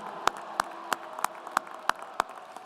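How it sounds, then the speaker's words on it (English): At a university spring commencement ceremony, a few distinct, evenly spaced claps ring out in a slow steady rhythm, about seven in under three seconds, over quiet room tone, sounding like one nearby pair of hands rather than a crowd. "big round of applause"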